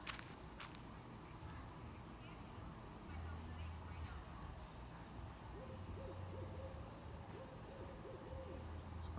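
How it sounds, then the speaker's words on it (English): Barred owl hooting at night on a forest floor, a low repeated call drifting in from a distance under steady outdoor noise, with faint talk nearby. "Right there, that's a barred owl."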